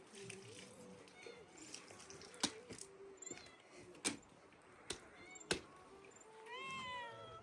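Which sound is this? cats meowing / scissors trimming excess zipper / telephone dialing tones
cats meowing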